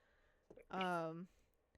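A cat gives one drawn-out meow, fairly close, with a few faint clicks around it and otherwise quiet surroundings, with rain falling.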